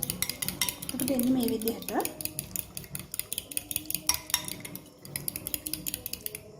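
Metal utensils scrape and clink rhythmically against a pan as Chinese noodles are stirred and tossed, a steady clatter close by, while a person speaks briefly at the start.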